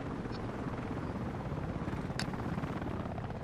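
Combat helicopter in the online shooter Battlefield Play4Free, its rotor and engine roaring in a steady, loud, continuous drone, with a couple of brief high clicks and no talk over it.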